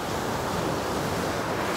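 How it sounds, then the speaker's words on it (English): Ocean waves wash steadily onshore at a scenic coastal viewpoint, a continuous dense roar of surf with wind noise across the microphone, close and loud, with no voices. "Soak in the sounds of these waves one more time"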